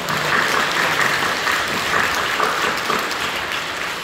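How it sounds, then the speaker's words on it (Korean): A church congregation applauds during a Korean worship service, a full, even wash of many clapping hands that holds at a constant level from start to finish. "사랑하며 경외하며 박수해 주시기 바랍니다"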